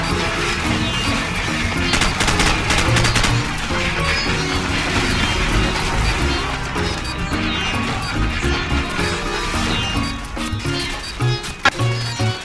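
Video game gunfire in Call of Duty 4: Modern Warfare, dense loud bursts of shots and crashing impacts running continuously with a few sharper hits near the end.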